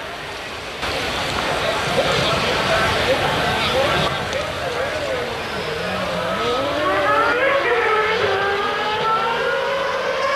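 Formula 1 race cars at Imola in 1994 circle slowly behind the safety car, engines rising and falling in long whining sweeps beneath continuous commentary and crowd noise.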